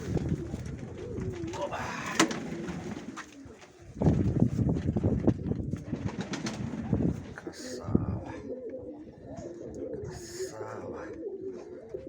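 Pigeons at a Mykolaiv loft coo and flutter amid close, lively background noise, while someone speaks intermittently nearby.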